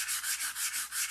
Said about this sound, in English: you could sand, like right here, I'm sanding this out